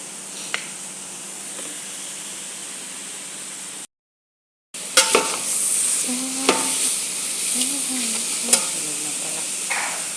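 Onions fry with a steady hiss in a pan while a utensil stirs them, adding occasional scrapes and clicks; the sizzle drops out briefly, then returns louder.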